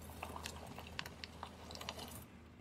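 Crunchy Cheetos are crushed, giving a quiet, close run of irregular brittle crackles and snaps.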